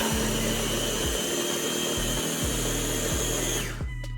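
A food processor chops an herb and Parmesan crust mixture for salmon in loud bursts, the motor pulsing on and off several times before whirring down at the end, with no talking.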